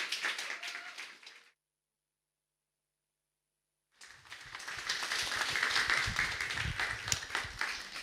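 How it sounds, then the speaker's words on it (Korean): A church congregation at a Korean revival service in Paris claps to welcome the preacher, a full steady round of applause after a short silent gap, filling the hall and rising to a dense peak. "우리 목사님 박수로 맞겠습니다"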